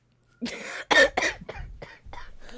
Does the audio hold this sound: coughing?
yes